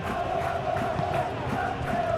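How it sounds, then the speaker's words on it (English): A stadium crowd in a simulated Real Betis versus Real Madrid La Liga football match gives a sustained roar and murmur, steady and fairly loud, with no clear single voices. "the crowd are reacting to that now"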